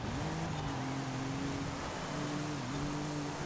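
A car drifts in Forza Horizon with the brake tapped: a steady engine hum sits low in the mix, its pitch dipping briefly and rising again. It is fairly faint and there is no talk.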